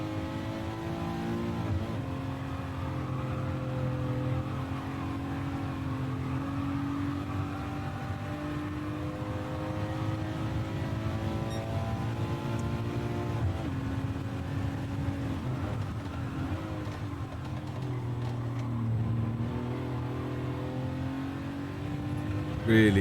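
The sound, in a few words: engine-swapped Beetle bus driving in Gran Turismo 7 video game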